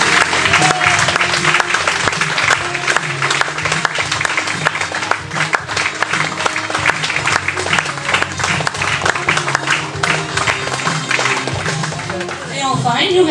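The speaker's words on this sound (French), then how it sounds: "On les applaudit bien fort." Audience at a spoken-arts performance evening gives sustained, loud applause, a dense crackle of many hands clapping that holds steady and fades near the end, with voices mixed in.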